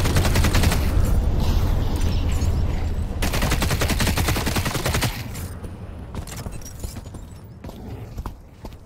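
Rapid gunfire bursts in the video game The Cycle Frontier, loud and dense for several seconds before thinning into scattered shots and quieter game sounds.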